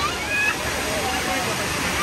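Steady broadband rush of falling water, loud and continuous, from close to a popular waterfall in Goa, India, with faint voices in the background.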